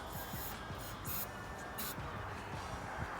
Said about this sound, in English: I normally start with some type of action cleaner inside of the barrel.